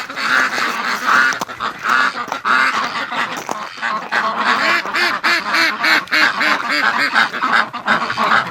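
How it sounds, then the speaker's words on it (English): A flock of ducks quacks and honks loudly and continuously as they are let out of their pen for a morning rush, a dense overlapping chorus of calls close by. "let the ducks out for a morning rush for us"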